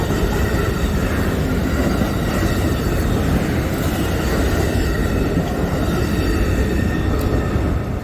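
A passing Amtrak train in downtown Orlando makes a loud, continuous rumble and roar up close, with faint higher squeals riding on top and no talk.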